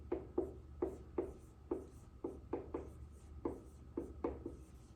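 Pen or pencil writing numbers by hand on paper, a quiet, close series of short scratchy strokes in a steady, irregular rhythm, with no speech.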